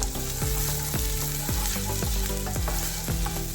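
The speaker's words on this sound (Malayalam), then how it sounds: "ബട്ടറൊന്ന് മെൽറ്റായി വന്നിട്ട് അതിലേക്ക് 2 വെളുത്തുള്ളി ചെറുതായി കട്ട് ചെയ്തതും ഒരു പച്ചമുളക് ചെറുതായി കട്ട് ചെയ്ത് ചേർത്തിട്ട് നന്നായിട്ടൊന്ന്" Garlic and green chili frying in melted butter in a pan, a loud steady sizzle with repeated stirring scrapes at roughly half-second intervals, no talking.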